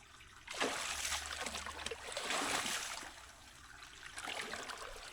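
Strong floodwater rushes and splashes steadily through a rice paddy, a close, continuous churning flow rising and falling in intensity, with no voices.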